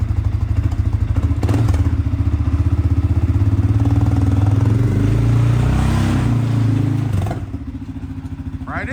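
A CFMOTO engine that needs a top-end rebuild runs at a steady 1,500 RPM, with a loud, close, even putter and rattle that drops off near the end.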